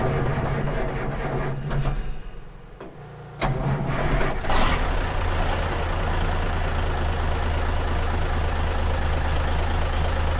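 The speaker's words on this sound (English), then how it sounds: "Got the combine started, got Gary's tractor warming up." On a farm at harvest time, a combine harvester and a tractor idle nearby while warming up. A steady low diesel rumble runs throughout, with a short dip and then a louder surge as an engine picks up before settling into an even idle.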